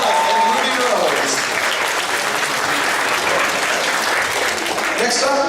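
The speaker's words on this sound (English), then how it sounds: "Big round of applause for Blake and Ruby Rose." Dense, sustained crowd applause at a Fall Kraken Con 2014 anime convention costume contest, steady and loud throughout with no voices standing out.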